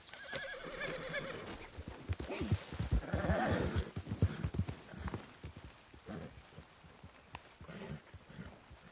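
In Red Dead Redemption 2, a horse whinnies and snorts amid clopping hooves and rustling movement, with voices talking over it, fairly close.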